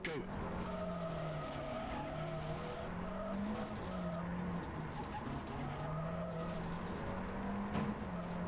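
Rally car in Richard Burns Rally on the Circuit of Ireland '84 stage, engine droning steadily while tires squeal and skid under braking, with a voice talking over the car noise throughout.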